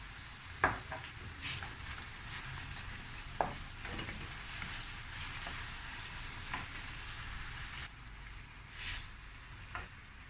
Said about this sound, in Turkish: biberle havuçla birlikte kavrulması lazım